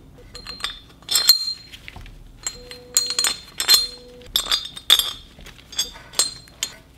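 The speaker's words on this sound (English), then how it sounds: "we'll go ahead and carefully put this on and start to get some of the bolts threaded through" Metal bolts are threaded through an engine bracket on a Cummins-swapped Land Cruiser, producing repeated sharp metallic clinks and taps in irregular bursts, close and fairly loud, with small handling rattles between them.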